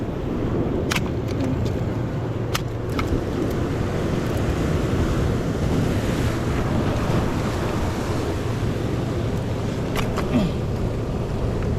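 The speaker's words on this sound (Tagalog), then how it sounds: "baka abutin ng alon abot tayo ng alon dito" Ocean waves washing onto the shore at Casiguran, Aurora, a steady broadband roar under heavy wind buffeting the microphone, close and continuous with faint voices in the background.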